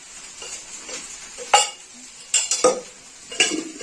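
Khichdi ingredients mixed in a pan, close and fairly loud: a handful of distinct spoon scrapes and metallic clinks against the pan over a quiet, faint background hiss, without talking.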